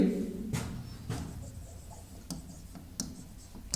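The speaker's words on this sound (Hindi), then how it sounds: "तो यहां पर हम लोग लिखेंगे" A pen writes on paper in a few brisk strokes and scratches, close and fairly quiet, with short pauses between marks and a quiet room behind.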